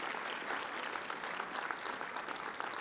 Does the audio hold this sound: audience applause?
yes